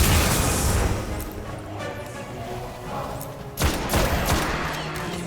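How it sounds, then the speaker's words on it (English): A building blows up in the video game Destiny: Rise of Iron, a loud sustained roar of explosive blasts and crackling debris with a fresh burst partway through, dense and close with no voices. "Let's just run into an exploding building."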